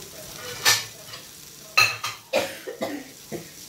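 Masala pomfret fish frying in a pan under a low background hiss, broken by a few distinct clattering scrapes and knocks as it is turned, no voices.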